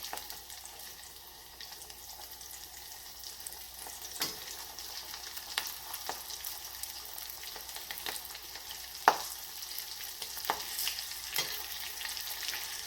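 Keto coconut shrimp fry in hot oil in a small pot, giving a steady, soft bubbling sizzle with occasional sharper crackles and pops, close by and with no voices.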